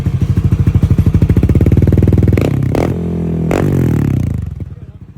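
A 210cc motorcycle engine revs up with rapid, dense firing pulses, then the throttle snaps shut and the revs drop into a steady idle before fading, loud and close, with no talk over it.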